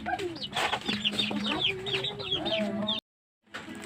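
Black Australorp heritage chickens clucking busily and repeatedly, close by, with a short break of silence near the end before the clucking resumes.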